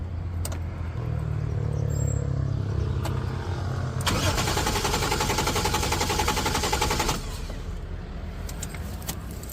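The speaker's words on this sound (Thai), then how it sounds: "เครื่องหมุนดีนะ แต่ไม่มีจุดระเบิดเลยเงียบ" After a low idle-like hum, the 1JZ-GTE engine in a Ford Ranger turns over on the starter for about three seconds in a fast, rhythmic churn, then stops without firing.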